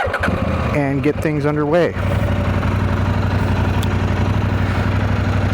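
A motorcycle engine runs with a close, loud, steady idle that continues evenly after someone speaks briefly over it.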